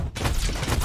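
Iron Man's propulsor ray attack in a Marvel video game, a dense, loud burst of rapid crackling blasts that runs steadily through the whole moment, with no talking.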